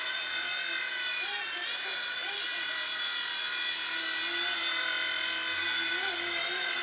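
A small WLToys V911 RC helicopter buzzes steadily through a pirouette, its high, layered motor whine wavering slightly in pitch as it turns, close and continuous.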